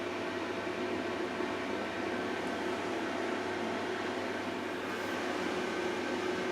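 A Belling BI60MF multifunction oven hums steadily on its intensive bake setting at 160 degrees, a constant fan-like drone with faint electrical tones and no speech.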